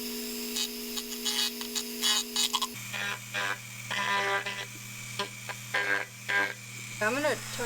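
Dremel 3000 rotary tool smoothing the drainage hole of a plastic planter pot, a steady high motor whine with grinding bursts that shifts pitch partway through as the speed changes, with a person talking over it.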